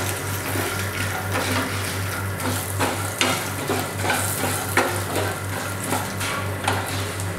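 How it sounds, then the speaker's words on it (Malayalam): Raw chickpeas and turmeric are stirred in a pan for puliyogare, giving a continuous sizzle with scraping strokes and a low steady hum underneath, close and fairly loud. "ഒന്ന് എല്ലാം നല്ലോണം ഇളക്കി കൊടുക്കുക."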